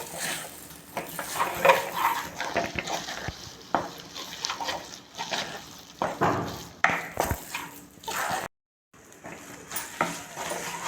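A sweet mung bean filling mixed with grated coconut and cardamom powder is stirred in a pan, giving scraping and soft sizzling with irregular clatter, a brief silent gap near the end, and no talk.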